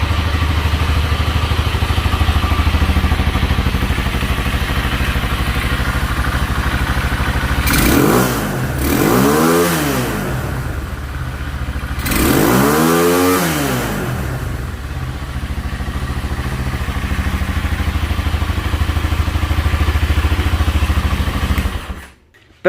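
A motorcycle under repair for a fault where it floods and gives off black smoke idles steadily, then revs up twice in long rising-and-falling surges before the engine cuts out near the end; loud, close and alone.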